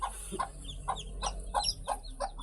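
A brooding hen clucks softly and rhythmically, about eight low, close calls in a steady series, with faint chick peeps high above.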